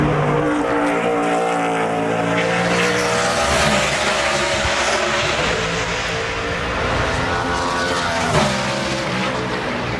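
A NASCAR Sprint Cup car runs a qualifying lap at Watkins Glen, its loud V8 roar sustained throughout as it holds high revs, then shifts and drops pitch briefly before pulling hard again.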